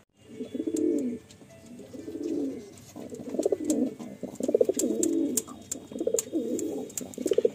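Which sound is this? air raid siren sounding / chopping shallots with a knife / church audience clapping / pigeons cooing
pigeons cooing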